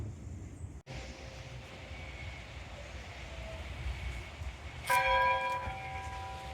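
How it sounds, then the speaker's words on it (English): A chapel bell inside a historic log cabin at a folk museum is struck once, its ringing tones swelling in and lingering over a low background rumble, with no talking. "The children have found the chapel bell."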